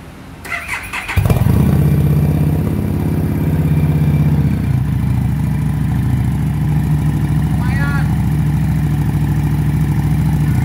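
A Harley-Davidson Street 500 motorcycle with an aftermarket exhaust starts with a sharp crank, then settles into a loud, throaty, uneven idle close by.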